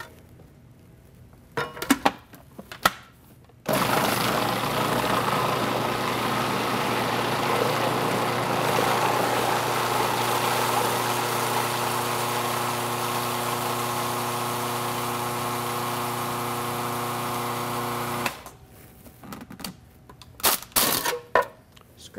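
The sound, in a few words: blender mixing soy dessert with sugar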